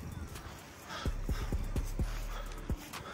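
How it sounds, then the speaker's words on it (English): Horse at a horse barn gives a quick run of hollow hoof clops, about six close thuds over a couple of seconds, above steady outdoor background noise. "I actually missed the damn horse."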